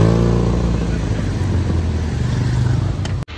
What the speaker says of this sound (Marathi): त्याच्या गाडीचा सायलेन्सर फाटला, जरा आवाज ऐकू याचा.